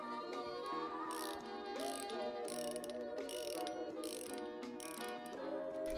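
Steady mechanical ratcheting of a wrench tightening self-locking bolts on the sprocket of an 80cc bicycle motor kit, rapid clicking continuing throughout, close and fairly quiet, with no talk.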